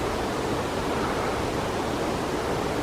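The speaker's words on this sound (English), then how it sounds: "There's a waterfall straight across from camp." A waterfall across from a camp in the Otago high country roars as a steady, broadband rush of falling water, constant and fairly loud, with no voices or other sounds.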